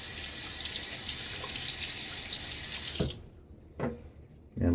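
Water from a bathroom tap runs steadily and loud while a razor is rinsed after a wet shave, then shuts off, followed by a couple of brief splashes and drips.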